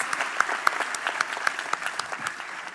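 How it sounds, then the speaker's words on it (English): A small audience at the national finale of an Indian Army quiz applauds the six competing teams, a thin, steady patter of scattered claps with a few sharper hand strikes, moderately quiet and heard alone. "A huge round of applause for all these 6 teams."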